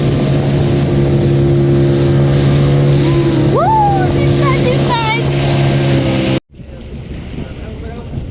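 A motorboat engine drones loudly and steadily with a deep hum on a dolphin-watching trip at Harihareshwar, a voice and faint bird-like calls over it, then the engine cuts out abruptly, leaving wind and water.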